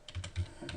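Close, quiet keystrokes on a computer keyboard, a brief irregular patter of several key taps with no voices.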